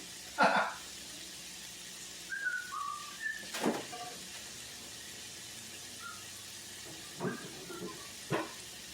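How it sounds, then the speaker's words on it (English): A pan of stovetop Brussels sprouts and bacon sizzles as a splash of lemon juice goes in, giving sharp hissing bursts over a steady frying background, with a few brief clatters. "I am going to put a little splash of lemon juice in here."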